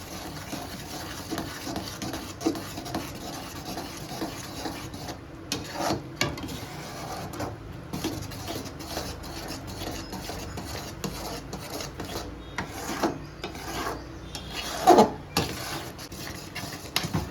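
Almond powder being stirred into sugar syrup for badam mesub, a sweet: a steady rubbing, scraping rasp of a spoon against the pan that keeps going for the whole stretch, with a sharper clink near the end and no talking.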